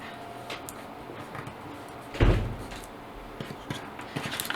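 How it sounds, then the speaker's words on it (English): A single door slams once inside a house, a loud thud in an otherwise quiet room with faint rustling before and after. "I hope you guys can't hear like the doors slamming too badly."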